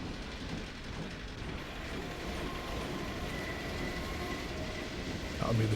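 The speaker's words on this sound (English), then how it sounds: "That'll be the train from the Nova Prospect prison." Train from the Nova Prospekt prison in Half-Life 2, a steady rumbling rolling of rail cars with a faint high squeal, continuous and moderately loud throughout with a brief swell at the very end.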